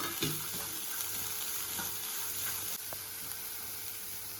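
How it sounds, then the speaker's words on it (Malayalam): Finely chopped carrots sizzle in a pan with sugar while being stirred for a bread sandwich filling, a steady close frying hiss with a few scraping stirs and light clinks, no speech. "നന്നായിട്ട് ഇളക്കി കൊടുക്കും. ഇതിലേക്ക് ചെറിയ 2 ക്യാരറ്റ് ചെറുതാക്കി അരിഞ്ഞതായിരുന്നു, അതും കൂടി ആഡ് ചെയ്യാം"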